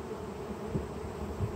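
Honey bees humming around a hive being cleared for honey, a low, steady buzz with a couple of louder passes as bees fly close.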